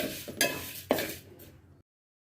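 Ingredients being roasted lightly in a pan over a low flame for a mung bean payasam, with a spoon clinking and scraping against the pan in two sharp knocks amid soft stirring, up close and with no talking.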